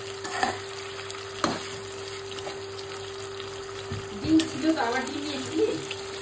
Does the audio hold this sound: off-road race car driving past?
no